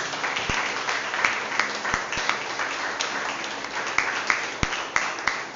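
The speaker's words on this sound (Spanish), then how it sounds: "Denle un fuerte aplauso al Señor." A church congregation applauding at a Spanish-language service, loud rippling clapping with sharp individual claps standing out near the microphone.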